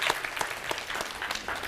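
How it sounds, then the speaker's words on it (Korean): Audience clapping steadily throughout a Korean lecture hall talk on entrepreneurs, a dense burst of many hands with no voices over it. "자, 박수 한번 해주세요"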